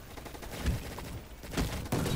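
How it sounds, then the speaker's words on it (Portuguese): Rapid, continuous gunfire from a minigun-style pistol in Gunfight Arena rattles in dense bursts, fairly loud and unbroken for a couple of seconds. "o bagulho é uma minigun em formato pistola"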